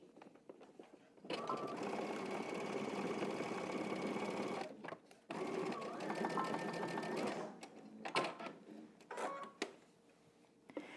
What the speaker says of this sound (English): And you're going to top stitch.